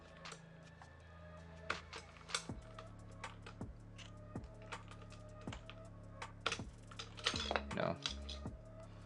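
ABS spacebar on a Monstargear XO87 V3 keyboard with JWK Lavender switches being pressed repeatedly, faint, sharp clacks spaced about a second apart with soft low thumps, quiet voices murmuring underneath.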